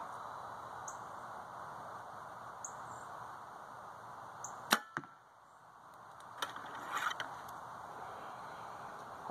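Arrows being shot: a sharp snap followed by a quick thud near 5 seconds, then fainter impacts, against steady outdoor background hiss with occasional faint bird chirps.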